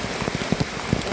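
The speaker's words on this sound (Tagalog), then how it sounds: "lakas ang ulan. My God! It's raining." Heavy rain pours near a cave in Apayao, Philippines, a dense, close hiss of drops drumming on surfaces with a few louder splats, and no other sounds.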